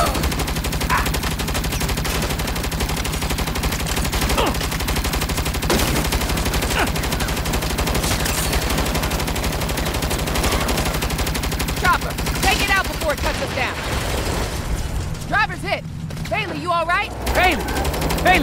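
Continuous rapid automatic gunfire from the video game Saints Row The Beginning, dense and loud throughout, with game characters shouting and talking over the shooting near the end.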